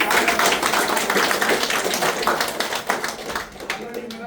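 Dense audience applause fills a room as an organisation welcomes newcomers, a steady wash of many hands clapping for about four seconds before thinning slightly at the end.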